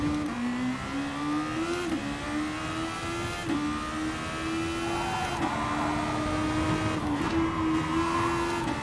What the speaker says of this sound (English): Sounds like that Renault engine.